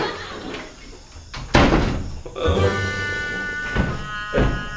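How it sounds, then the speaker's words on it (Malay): A door bangs shut with a sharp thud, followed by further knocks and rattles, while voices are heard in the room. "Pintu."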